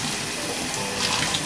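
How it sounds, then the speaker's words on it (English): Running water from a tap while tie-dyed cloth is rinsed in a tub, a steady close rushing splash with small sloshing variations throughout. "After 20 minutes, I am washing it nicely in water and my water is coming clear now"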